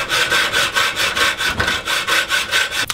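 A dull hacksaw blade cuts through a door threshold in quick back-and-forth strokes, about a dozen rasping passes in steady rhythm, loud and close with no voices.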